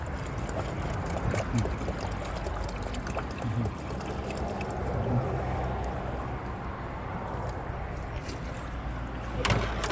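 Coolant pours steadily into the radiator of a Nissan Navara D40 in a continuous gurgling stream at close range, with faint background bustle and a brief clunk near the end.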